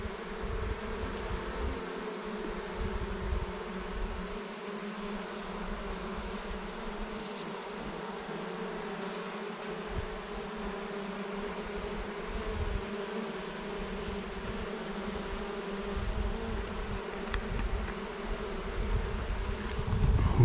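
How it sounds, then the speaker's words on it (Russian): Honeybees buzz around an open beehive during an inspection, a steady droning hum of many insects close by, continuous for the whole stretch with light wind noise and no speech. "Тут горсть пчелы, а я не могу найти матку"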